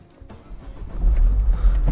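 A Ford Fiesta ST Mk7 engine cranks and fires up, its low rumble building over the first second and settling into a loud, steady idle close by.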